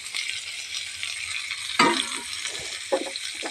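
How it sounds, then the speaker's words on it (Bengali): Bitter gourd, green chilies and chopped onion frying in oil in a pan, a soft continuous sizzle with a few sharp clinks and stirring scrapes, close and quiet. "এটাকে একদম ভালো করে তেল দিয়ে ভেজে নেব"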